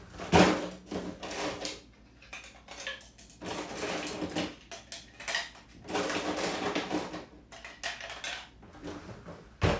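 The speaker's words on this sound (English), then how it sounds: "And ice is going in for the first part of the shake." Ice rattling hard inside metal cocktail shaker tins while mixing a Clover Club with egg white, shaken in several loud bursts separated by brief pauses.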